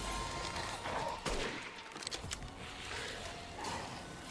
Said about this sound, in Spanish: Estamos fallando de muchos tiros